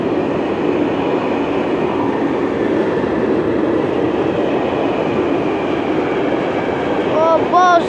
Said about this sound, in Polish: jedzie towarowy